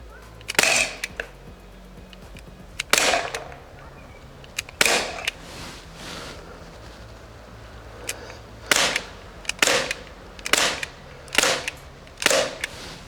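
Sharp, snappy air pistol shots ring out one by one at irregular intervals, about ten in all, each followed by a quick metallic clink as pellets hit a can or target, against a quiet background.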